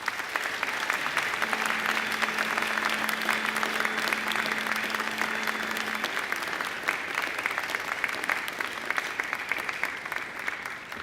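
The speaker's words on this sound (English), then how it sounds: "And now I invite you to give them a mighty round of applause." A large crowd of university graduates applauds their families and friends at a graduation ceremony, a dense, sustained roar of clapping lasting the full stretch, loud and even, with a faint steady tone in the background.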